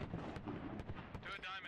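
Mortar fire in the video game Squad during an esports match, with several sharp booming impacts in quick succession under a commentator's voice, followed by a brief burst of higher-pitched noise near the end.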